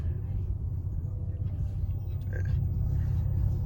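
A 2014 Ford Mustang V6 fitted with a Roush axle-back exhaust gives a deep, steady rumble heard close up. It swells slightly louder toward the end, with a brief faint voice partway through.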